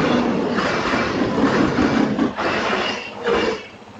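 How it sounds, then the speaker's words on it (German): A train rolls past outdoors with a steady, broad rushing rumble that swells and dips over a few seconds, heard alone without talk. "Pascal, das ist ein Zug"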